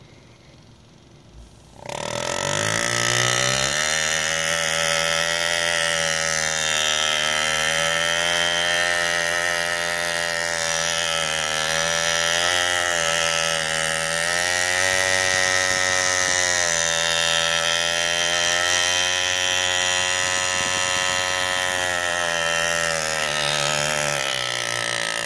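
A Lindsay AirGraver pneumatic engraver cutting metal at full throttle, a steady, loud, buzzing mechanical whine with dense harmonic drone that starts abruptly after a short quiet lead-in and runs continuously without pause.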